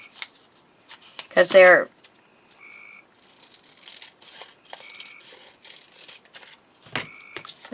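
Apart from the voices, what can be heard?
cutting down a paper structure strip for a craft box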